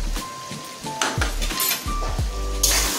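Spice paste of garlic, dried chili, cumin and coriander for chicken curry being fried in a pan, with a soft sizzle under repeated clinks and scrapes of a utensil against the metal pan, close by.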